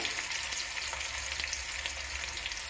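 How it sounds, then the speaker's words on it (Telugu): Tomato pieces fry in hot oil in a pan for Nellore fish curry, giving a close, steady sizzle and crackling hiss with no voices. "సో ఇప్పుడైతే ఫ్రై అయింది కదా బాగా, టమాటా యాడ్ చేసుకుంటున్నాను"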